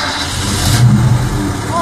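A car engine turns over and revs up in a burst, then settles, heard close with people talking around it.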